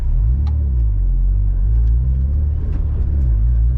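A Honda S2000 pulls away hard in first gear and shifts straight into second, the engine's deep droning rumble climbing in pitch, dipping at the shift and rising again, loud and close.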